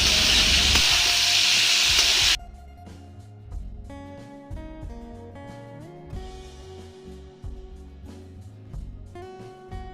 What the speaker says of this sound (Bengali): তেল গরম হয়ে আসলে কেটে রাখা ঝিঙেগুলো দিয়ে দিচ্ছি